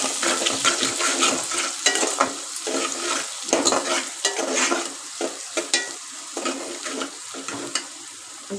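Curry leaves crackle and sizzle in a pan of cooking snail meat, with steady frying hiss, stirring scrapes and occasional louder spatters, close up and without voices.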